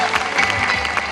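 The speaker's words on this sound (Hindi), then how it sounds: "ताली बजाइए यीशु मसीह के लिए।" Audience in a Hindi Christian gathering in Delhi clapping steadily for Jesus, a dense continuous round of applause filling the short moment.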